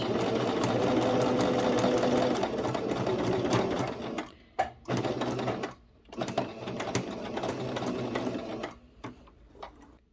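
A sewing machine runs steadily as it stitches and backstitches over the start of a seam on a double-sided sousplat cover, its motor whirring close and loud with short pauses and restarts toward the end.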